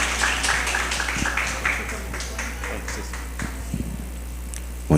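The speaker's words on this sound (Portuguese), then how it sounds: "Uma salva de palmas, seja bem-vindo." An audience at an archdiocesan Divine Mercy congress applauds to welcome a priest. The clapping is moderate and scattered and gradually thins out, with some low background murmur.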